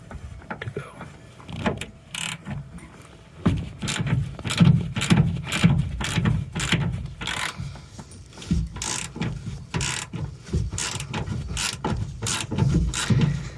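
A ratchet cranks out seat bolts threaded into captured nuts, giving a fast, steady train of sharp mechanical clicks close by for the whole stretch.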